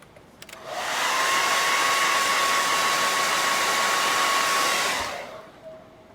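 A handheld dryer blows over freshly stenciled paint on a card, a steady close whooshing that switches on, holds for about four seconds, then cuts off.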